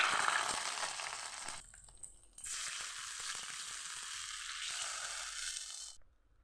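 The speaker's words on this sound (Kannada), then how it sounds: "ಎಣ್ಣೆಗೆ ಸಾಸಿವೆ ಹಾಕಿ ಸಿಡಿಸುತ್ತಾ ಮೆಣಸು ಮತ್ತು ಕರಿಬೇವು ಹಾಕುವ." Mustard seeds, chilli and curry leaves crackle and sizzle in hot oil for a pineapple gojju tempering, a continuous close hiss that briefly drops away before resuming and then stops abruptly.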